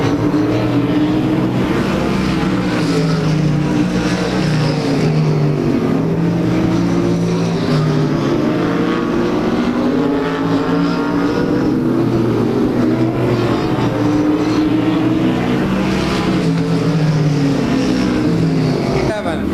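Race cars lapping Claremont Speedway during weekly short-track racing, their engines droning and sweeping steadily past throughout, loud and continuous, with crowd and track ambience underneath and no clear break.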